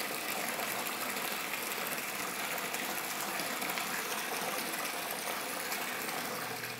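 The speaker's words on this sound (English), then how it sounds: "turn on the pump for this protein skimmer so that it circulates the water in the bucket" A protein skimmer pump circulates a vinegar-and-water mix in a bucket, giving a steady, close, hissing gush of churning water that runs evenly throughout with no voices.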